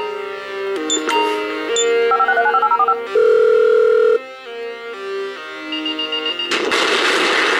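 Phone number being dialed in the video game GTA 5: a quick run of electronic keypad tones and beeps, followed by a long steady ring tone and then a brighter burst of noise, loud and close.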